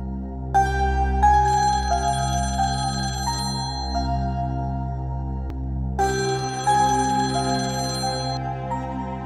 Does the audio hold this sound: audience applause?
no